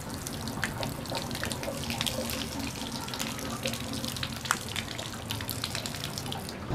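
Water runs steadily from a tap fed by household pipes, a continuous close splashing hiss with small drips, and a faint voice murmurs underneath.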